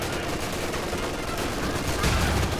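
Machine gun fire from a British Vickers in the real-time strategy game Company of Heroes 2, a steady dense rattle of battle noise that grows louder toward the end amid continuous game combat sounds.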